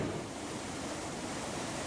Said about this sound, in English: The video footage shows the storm waves crashing into the two trial sections of wet sand fencing